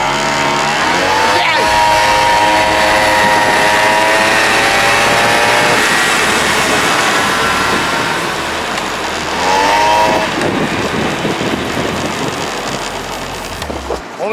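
A moped engine racing another moped, loud and close, rising in pitch as it revs and accelerates, then dropping and surging again before fading toward the end.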